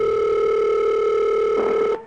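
A telephone dial tone hums close and steady, unbroken for about two seconds before cutting off with a brief click.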